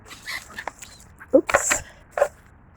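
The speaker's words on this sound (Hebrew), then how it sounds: "גם כלבים." Dogs barking and yipping in short, separate bursts outdoors near seagulls, a few calls at moderate distance with gaps of quiet between them.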